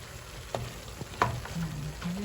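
Carrots frying with ground meat in a home pan, a steady low sizzle punctuated by a few sharp stirring clicks and scrapes, close and moderately loud, with no voices.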